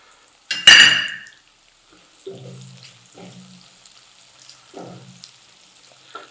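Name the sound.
onion and ginger frying and stirred in a pan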